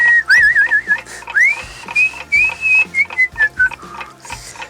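A person whistles a wavering, sliding tune up close, loud and clear, in several phrases with short pauses, while soft ticks and taps sound underneath.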